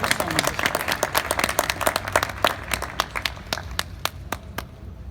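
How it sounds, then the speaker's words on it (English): Close, loud applause from an audience at a wine presentation event, with crisp individual hand claps in a lively, uneven rhythm that thin out toward the end. "just give them, please, one applause, support, and encourage these great talents"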